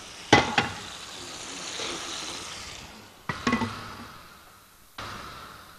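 Cashews fry in a pan with a little oil, a soft sizzle running underneath while sharp metallic clatters of a utensil against the pan strike near the start, again mid-way, and once more near the end.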